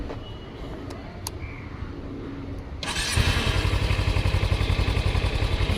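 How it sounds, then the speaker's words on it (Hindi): A Kawasaki Ninja 300 motorcycle idles after a quiet stretch, its exhaust note starting abruptly and settling into a loud, steady, rapidly pulsing burble that carries on close by. "मैं आपको अभी इसका एग्जॉस्ट नोट सुनाता हूँ"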